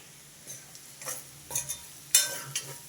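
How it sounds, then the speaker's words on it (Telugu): Chili powder being stirred into cut bitter gourd pieces, with a few soft scraping and mixing strokes that come in separate bursts, close and fairly quiet, with no voices. "కారము మొత్తం వేసేసి బాగా మిక్స్ చేసుకోవాలి"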